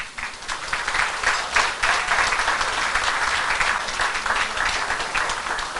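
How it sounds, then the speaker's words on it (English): A large audience breaks into sustained applause at a community leadership awards ceremony, a dense, steady wash of many hands clapping at once, loud and continuous throughout with no voices standing out. "let us all put our hands together and give a round of applause to our 2016 Community Leadership Awards recipients, Emily Wang of East West Bank,"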